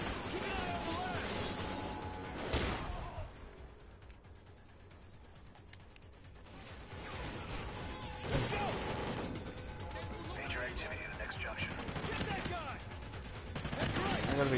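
Bursts of gunfire in the first-person shooter Call of Duty Ghosts, with loud volleys near the start and again around the middle and end, layered over continuous in-game ambience and background noise.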